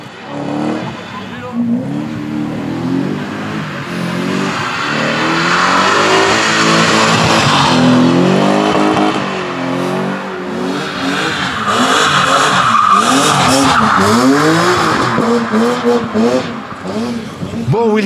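Rally car engines revving and roaring up and down nearby while drifting at a drift event, loud and continuous, with a voice talking over the engine noise.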